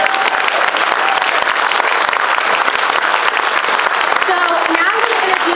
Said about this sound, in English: I think we should clap again for that.